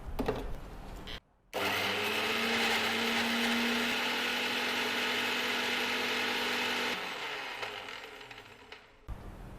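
A blender grinds roasted chilies, dal and hing for paruppu podi, a loud steady whirring run lasting several seconds after a short pause, then easing off near the end.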